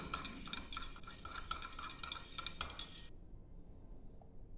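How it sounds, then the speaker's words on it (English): Dye liquor for polyester disperse dyeing being stirred in a beaker, with quick repeated clinking and tapping of a stirrer against the glass for about three seconds before it stops abruptly. "So now if you take the beaker and then just to do the stir"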